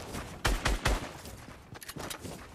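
Gunfire in the video game Fortnite, several loud sharp shots in quick succession early on, followed by fainter scattered game effects.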